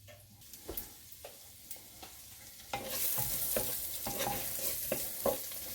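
Chopped onions sizzle and fry in a pan on a home stovetop, with intermittent scraping clicks of stirring at first, then a louder steady crackling sizzle that continues under further stirring taps.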